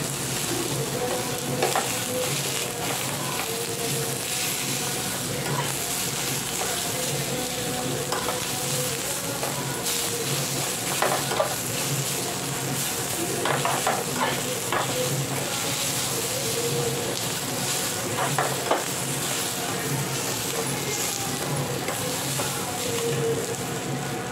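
Onions sizzle as they are fried and stirred in a pan until reddish-brown. A steady close-up hiss of frying runs throughout, with scraping stir strokes here and there and no talking.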